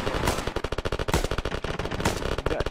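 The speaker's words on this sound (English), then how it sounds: "They're shooting at nothing" Sustained automatic gunfire in the video game Arma 3, a dense loud rattling stream of rapid shots with overlapping bursts throughout.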